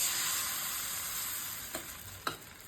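Appam batter cooks in a pan, a soft, steady sizzle and hiss heard up close with two brief clicks or scrapes near the end, no voices.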